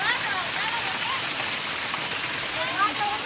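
Steady broadband rush of flowing water at a river water intake in Guatemala, loud and continuous, with faint whistling tones drifting over the roar.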